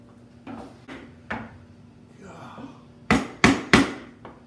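A chisel knocks hardened hot glue off a wooden spoon in a series of sharp wooden raps, a few spaced light taps followed by three loud, close strikes in quick succession.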